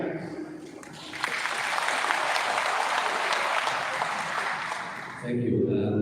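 Audience applause welcoming a university professor at a semiconductor education talk, a dense steady wash of clapping lasting several seconds before fading as a voice begins.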